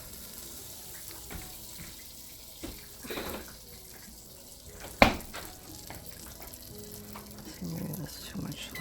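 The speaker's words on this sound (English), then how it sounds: "Okay, we're gonna let that butter melt a little." Butter melts in a pan with a faint, steady sizzle and crackle under quiet kitchen handling, broken by one sharp utensil clank.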